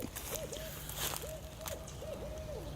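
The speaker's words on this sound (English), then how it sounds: "It's always cool when we hear an owl" Soft owl hoots repeat in a steady pattern, distant and faint beneath a noisy outdoor background with scattered crackles.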